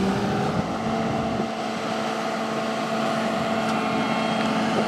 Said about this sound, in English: This is quite a high-tech sprayer.